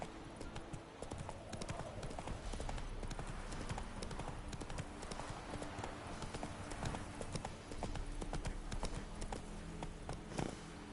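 Roach, a horse in The Witcher 3, gallops with rapid, rhythmic hoofbeats that continue steadily throughout, set against a dense background of game ambience.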